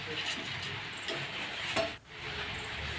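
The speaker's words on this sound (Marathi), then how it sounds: "छानसं उकळत आहे" Water with ginger, cloves and cardamom boils in a pot for tea, giving a close, steady low bubbling hiss that cuts out briefly near the end.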